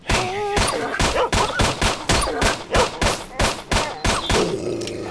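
Rapid volley of upgraded pistol shots in Stalker: Shadow of Chernobyl, about a dozen sharp cracks in quick succession over five seconds, loud and close, with no talk.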